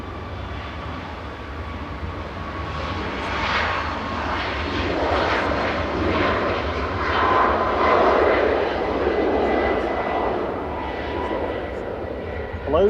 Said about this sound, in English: This is Ryanair going short, departing to Seville with flight